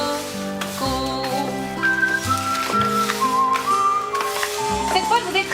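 A person whistles a bright, wavering melody over steady musical accompaniment in a French cartoon scene, the tune moving through several sustained notes.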